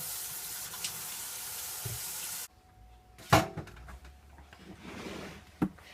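A kitchen tap runs steadily while hands are washed after handling raw beef. The water then shuts off, followed by a few sharp clunks and knocks.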